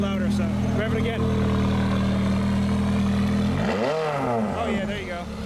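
A supercar with an active exhaust holds a loud, steady engine note, then rises in a revving sweep near the end, with people talking over it.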